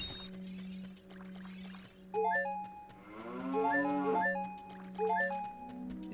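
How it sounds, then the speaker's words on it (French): Cattle mooing in the video game The Legend of Zelda: Ocarina of Time, a long drawn-out synthetic moo with no talk, set against looping game music with a steady low drone and bright melodic notes. "Qu'est-ce qu'elle a la vache sans déconner?"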